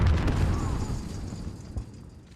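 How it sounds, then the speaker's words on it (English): Frag grenade going off in Call of Duty: Warzone, a deep booming blast at the start rolling into a long low rumble that gradually fades, with a smaller thump near the end. "Throwing grenade."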